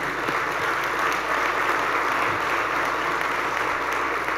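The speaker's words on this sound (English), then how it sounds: "That deserves a round of applause." Audience at a regional luncheon applauding, a steady wash of many hands clapping that holds evenly throughout, moderately distant in a large room.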